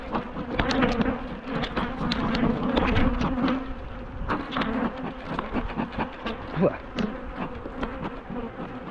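Angry honeybees swarm noisily around a disturbed hive, a dense, continuous buzz close by with individual bees whining past, loud and steady throughout.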